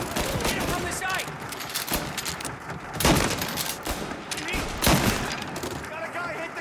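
Gunfire rattles through a firefight in Mafia: Definitive Edition, with continuous overlapping shots and heavier thumping bursts recurring every second or two, loud and close amid a busy combat soundscape.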